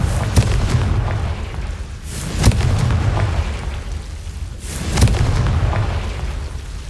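Confringo blasting spell explosions in the Hogwarts Legacy video game: three heavy, rumbling booms land about two and a half seconds apart over a dense, continuous game background.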